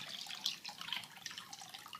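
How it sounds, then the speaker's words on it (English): Bleach poured into a cup of water for cleaning aquarium plants, a faint, close trickle with small splashy drips over about two seconds, no talking. "I add my bleach to the cup"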